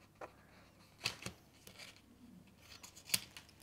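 Scissors trimming card stock while making a pocket fold card, a handful of sharp, separate snips spread irregularly over a few seconds, close and quiet with no talking.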